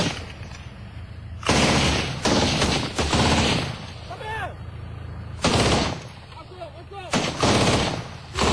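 Bursts of gunfire aimed toward French Foreign Legion vehicles in Côte d'Ivoire ring out loudly in several rapid clusters, with shouting voices heard between the shots.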